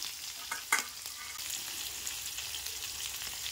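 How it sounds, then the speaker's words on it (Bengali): Potatoes fry in hot oil in a pan with five-spice tempering and green chilli, giving a steady, close hiss and crackle with one sharp utensil clatter early on. "দিয়ে আলু কটা ভেজে নেবো প্রথম।"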